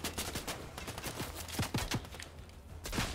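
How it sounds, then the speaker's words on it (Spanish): Bots fire on the player in the video game Fortnite, rapid bursts of gunfire with several sharp, close shots clustered together over a faint background, no talking. "Llevan media hora disparándome a mí."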